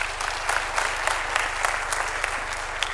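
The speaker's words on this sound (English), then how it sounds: "Let's continue the round of applause." A conference audience gives a continuous round of applause, dense and fairly loud clapping filling the room without pause.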